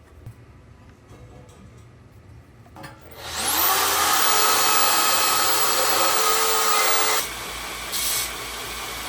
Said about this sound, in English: So I'll go ahead and cut this at 8 inches real quickly on the bandsaw.